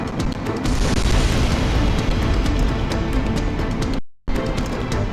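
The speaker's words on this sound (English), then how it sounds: "Cannon firing!" A massive cannon fires and explodes in the Ace Combat X flight game, a loud, sustained roaring blast that fills the sound and rumbles on for several seconds, broken by a brief cut of silence before the roar resumes.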